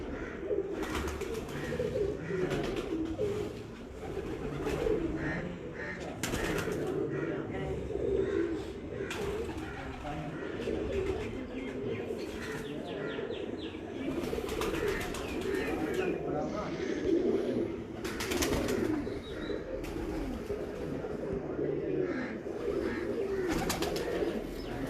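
Steady cooing from a flock of breeder pigeons in Kasur fills the scene, overlapping throaty calls with occasional chirps and a faint wing flutter, continuous and fairly close.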